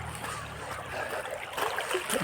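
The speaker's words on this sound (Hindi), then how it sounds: "नदी की आवाज़ आ रही होगी आपको।" A river flows steadily with a broad, rushing wash of water, continuous and fairly close, with no speech over it.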